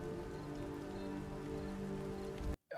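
Steady rain patters on a surface in a light, continuous hiss that ends in a brief dropout.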